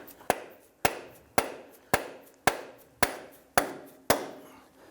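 Dead blow hammer tapping a CV axle into the bearing carrier of a 2008-2013 Nissan Rogue: eight sharp, evenly spaced strikes about half a second apart, each with a short ringing decay, close and alone.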